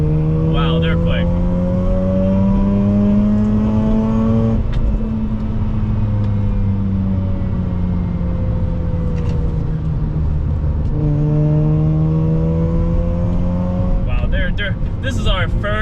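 Cars accelerate hard on a race track while chasing a Miata. A loud, close engine climbs steadily in pitch, drops sharply at each upshift and climbs again, with other engines droning alongside.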